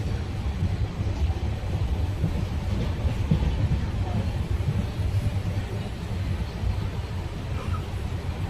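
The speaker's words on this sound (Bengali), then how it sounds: "ট্রেন মোটামুটি 5 মিনিট লেটে চলছে এখন" A 12837 Puri Superfast Express running on the Howrah to Bhubaneswar line near Bhadrak on a rainy day, a steady close rumble and rolling clatter that stays constant throughout with no clear breaks.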